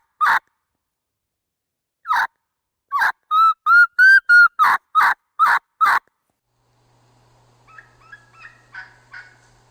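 A handheld turkey call imitates a lost young turkey's kee-kee, with sharp isolated yelps followed by a quick run of rising whistled notes, loud and close, then fainter softer clucks trailing off.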